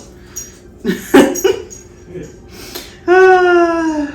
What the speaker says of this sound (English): now she's barking at Art.